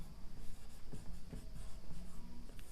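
Chalk or marker writing on a board during a physics class, a close series of short scratchy strokes and taps in an irregular rhythm.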